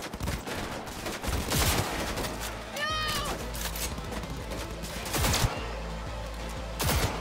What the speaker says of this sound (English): Are they shooting each other?